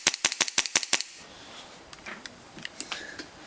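A Kimber Desert Warrior airsoft pistol fires seven rapid, evenly spaced blowback shots, each a sharp close crack, followed by fainter scattered clicks and mechanical handling noises.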